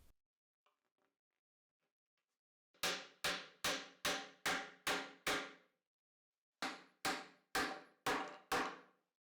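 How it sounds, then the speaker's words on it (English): Two bursts of sharp, loud hammer blows driving glued wooden dowels into the solid wood feet of a bed frame, six strikes then four, struck at a steady rhythm after a few faint taps. "drove in the dowels,"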